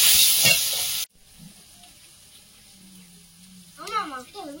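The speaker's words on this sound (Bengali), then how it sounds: "আদা পোড়াটা দিয়ে দেবো, দিয়ে টমেটোটা কষিয়ে নেবো" Raw tomato and ginger fry loudly in a pan for a Bogo fish curry, a bright hissing sizzle lasting about a second before cutting off abruptly, followed by quiet room sound and someone speaking.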